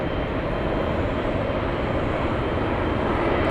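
A Japan Airlines Boeing 787 on final approach at Los Angeles International Airport produces a loud, steady, broadband jet roar that holds constant throughout without any break.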